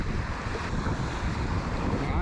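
Steady, close ocean surf washing onto a beach where surf fishing is underway in deep water near shore, a continuous broadband roar mixed with strong wind buffeting the microphone, with no voices.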